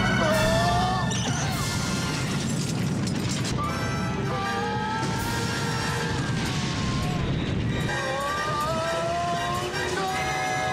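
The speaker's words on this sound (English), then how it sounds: "with explosions going off everywhere" Explosions from a comedy film scene in The Naked Gun, with dense crashing booms and rumbling mixed into loud, continuous chaotic noise and music-like tones throughout.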